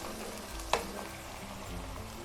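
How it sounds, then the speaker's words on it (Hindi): Garlic and ginger paste frying with browned onions gives a quiet, steady sizzle, with one brief sharp clink from a utensil against the pan. "इसको मैंने हल्का सा फ्राई करना है।"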